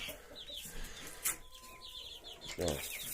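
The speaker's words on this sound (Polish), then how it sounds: "O, walka kogutów się zaczyna." Roosters scuffle close by, clucking and squawking in short agitated bursts, with a quick flurry of wings partway through.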